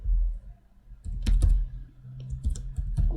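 Clicky keystrokes on a computer keyboard, short irregular bursts of close, crisp taps with brief pauses between, heard alone.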